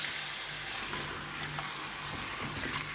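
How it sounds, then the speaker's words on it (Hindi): Chicken fries in oil for nihari, a soft, steady sizzle with light crackling and occasional stirring, faint and continuous with no voices. "इसको अच्छे तरीके से चिकन को फ्राई करना है इसमें, ऑयल में।"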